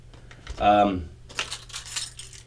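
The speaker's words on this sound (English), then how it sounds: "My keys." A bunch of keys jangles and clinks close by, a short metallic shake followed by lighter scattered rattling, heard while restringing an acoustic guitar.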